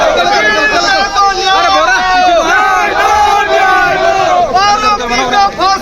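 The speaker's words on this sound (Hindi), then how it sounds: "मस्जिद के पास नारेबाजी हिंदुवादी संगठनों के लोग कर रहे हैं" Large crowd of Hindu group members shouting slogans near a mosque during Friday prayers, loud massed voices chanting and yelling continuously, close and dense throughout.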